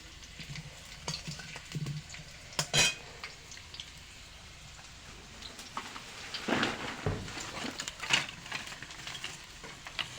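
Potatoes fry in a pan with a soft, steady sizzle, broken by scattered clinks and scrapes of a utensil stirring against the metal, with a few sharper knocks.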